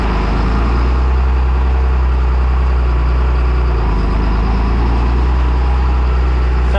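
A John Deere 8300 tractor engine runs at a steady, loud, deep drone while it works a rough chiselled field in 14th gear, its low rumble unbroken and close throughout with no voices.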